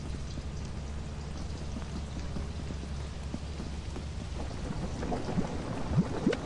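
Rain falls steadily in the Lethal Company game, a constant hiss with low rumbling underneath and a few louder splashes and knocks near the end, with no voices.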